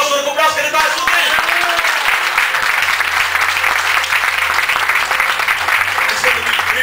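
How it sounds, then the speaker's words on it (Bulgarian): A church congregation applauds, a dense, loud, continuous wash of clapping that holds steady throughout, with crowd noise mixed in. "Моля за вашето мощно ръкопляскане тази сутрин"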